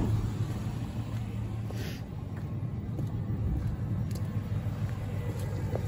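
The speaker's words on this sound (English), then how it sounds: "Here's a stock exhaust." A steady low engine rumble idles continuously, a 2010 Ford Ranger Sport 4x4 pickup's stock exhaust droning evenly at close range with no talking.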